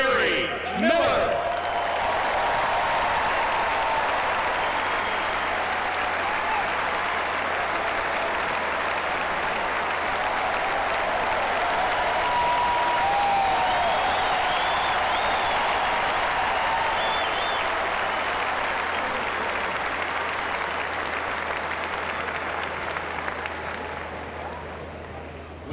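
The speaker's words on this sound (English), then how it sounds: "Let's hear it for one of the best ever at Carolina, Larry Miller." A crowd at a basketball team recognition ceremony for the 1967-69 Carolina squad gives sustained, steady applause that stays strong for the full length before tapering slightly at the end.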